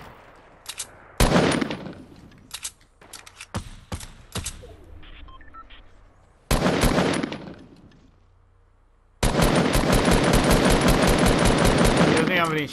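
Video game gunfire in Fortnite squads: sharp single shots and short bursts, then a long sustained volley of rapid automatic fire, loud and close, with quieter stretches between.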